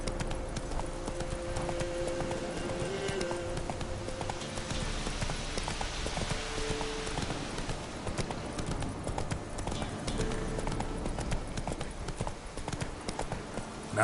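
Roach, a horse in The Witcher 3, gallops with rapid, steady clip-clop hoofbeats throughout, joined by a brief whinny and faint background ambience.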